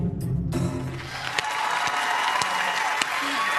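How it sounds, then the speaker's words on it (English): A slow clap of about four sharp, evenly spaced hand claps, roughly half a second apart, sounds over a steady background noise. "I'm giving you a slow clap on that one"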